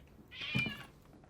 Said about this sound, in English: I'm sorry about my cat, by the way.